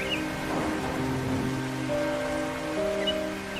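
Cartoon rain falls on a crow and bird animation, a steady soft hiss running through the whole moment beneath sustained musical tones, with no voices.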